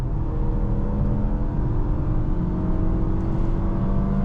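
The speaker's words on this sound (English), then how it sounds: "Sport mode is going to hold the revs up, so if I want to merge into traffic like so" A 2025 Mazda CX-5 in sport mode holds its engine revs high while merging into traffic, a steady, close, droning hum with a faint rising whir and no talk over it.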